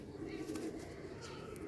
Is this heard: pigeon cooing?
yes